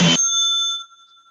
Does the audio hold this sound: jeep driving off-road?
no